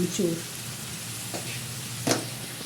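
Pumpkin sabzi frying in a pan after jaggery is added, with a steady, low sizzle throughout and a couple of brief stirring scrapes near the start and around two seconds in.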